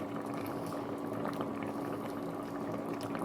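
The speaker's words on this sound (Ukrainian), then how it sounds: "Кипіло 20 хвилин." A pot of syrup with pears and fruit bubbles at a steady rolling boil, dense gurgling and popping close up with no pauses.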